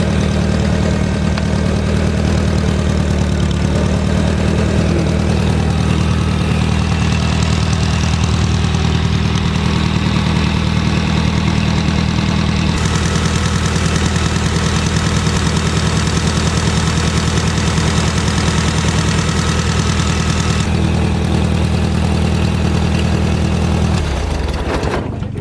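A Massey Harris tractor engine idles steadily close by, a loud continuous low rumble with a constant throb that carries on alone for about 24 seconds and then cuts off abruptly near the end.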